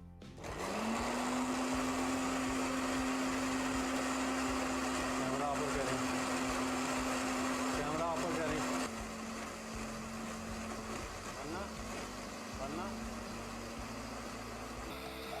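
Kitchen blender making mayonnaise whirs at a steady high-pitched hum, then the pitch drops slightly partway through as it keeps running with faint clinks.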